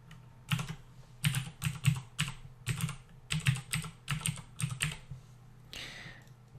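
Someone types on a computer keyboard in short, uneven bursts of close, clicky keystrokes with brief pauses between them, ending in a softer rustle; no one speaks.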